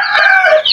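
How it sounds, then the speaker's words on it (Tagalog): Chickens give a short, loud, close crow-like call among a brood of chicks, a single bright burst lasting under a second. "marami rin tayong mga sisiw"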